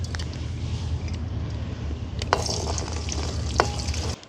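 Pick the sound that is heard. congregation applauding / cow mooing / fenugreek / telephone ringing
fenugreek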